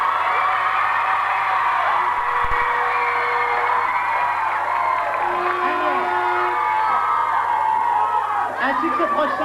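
An audience at a live radio show claps and cheers, a dense, loud crowd roar with whoops and shouts that runs continuously, while a voice can be heard over it.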